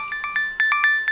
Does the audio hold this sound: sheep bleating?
no